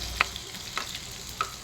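Onions and asafoetida fry in hot oil and ghee, giving a steady soft sizzle with a few small pops and crackles, close and fairly quiet.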